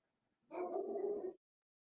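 A single dog gives one drawn-out, whining bark of under a second, heard indoors and fairly quiet, alone, with no talking.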